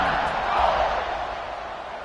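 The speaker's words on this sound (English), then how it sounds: "this crowd is feeling themselves after that last drive" A football stadium crowd cheers and roars after a kickoff in an Alabama college game, a steady, dense wash of noise that swells slightly and then eases over two seconds.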